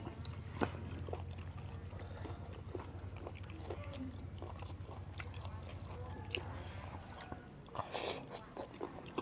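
Close, quiet chewing of crunchy, tender-stewed beef tendon, with soft repeated bites and crunches and a few faint mouth and utensil sounds, recorded near the mic.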